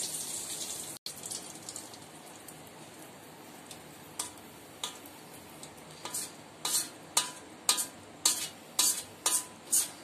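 Hot oil being poured into a jar of crab pickle, sizzling softly under a steady faint hiss, with a run of sharp ticking crackles that grow louder and more regular toward the end.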